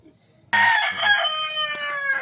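A rooster on a backyard farm crows loudly and up close, one long drawn-out call that starts abruptly after a brief quiet moment.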